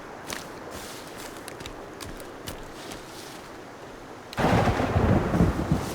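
Thunderstorm in the survival video game Sons Of The Forest: a low, steady rumble with scattered cracks, then a sudden loud swell of heavy rain and thunder near the end, with no talking.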